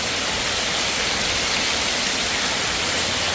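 Heavy rain falls outside in strong wind, making a loud, unbroken broadband hiss that stays steady throughout with no pauses.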